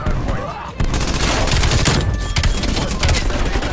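Rapid, sustained PPSh submachine gun fire in Call of Duty Cold War multiplayer, loud and dense almost throughout after a brief gap, with a voice talking faintly underneath.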